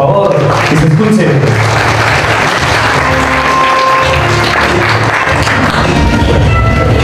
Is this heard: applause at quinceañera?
yes